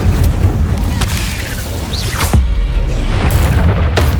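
An incendio fire spell is cast in Hogwarts Legacy, a loud burst of flame and whooshing impacts amid ongoing combat noise and a dense rumbling backdrop.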